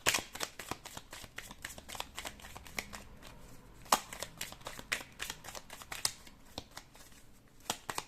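Playing cards shuffle close and quiet in a run of crisp riffles and flicks, short rapid bursts with brief gaps between them, and nobody speaks.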